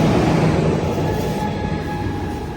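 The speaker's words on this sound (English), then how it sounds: "A Siemens Charger SC44 2101." Amtrak Capital Corridor passenger train led by Siemens Charger SC44 locomotive 2101 at Richmond station in California rumbles past nearby, a steady loud roll of wheels on rail with faint high squeal tones.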